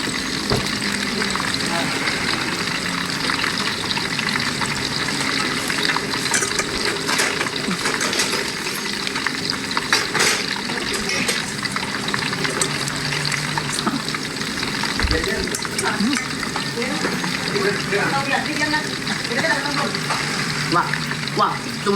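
Shrimp fritters (bakwan udang) frying in hot oil, a continuous dense sizzle and crackle with occasional clinks and stirring, with talk mixed in at times.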